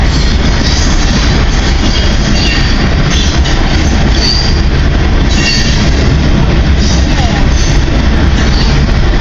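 Close and loud, a CN freight train passes with heavy continuous rumbling, rattling wagons and squealing wheels that never let up.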